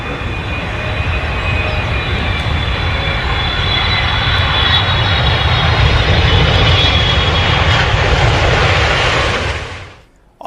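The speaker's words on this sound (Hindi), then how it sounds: "प्लेन ने यहां मोरन बाईपास पर इमरजेंसी लैंडिंग फैसिलिटी पर की लैंडिंग" Air Force C-130 transport aircraft landing on the emergency highway airstrip on the Moran bypass, a loud, steady propeller-engine roar held close for about ten seconds before cutting off abruptly, with no talking.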